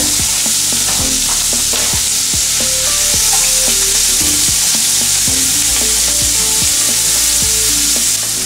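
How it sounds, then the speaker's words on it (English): Onion sautés in a pan with a dense, loud, continuous sizzle, close up and broken by frequent scraping strokes of a stirring utensil. "While the onion is sauteing"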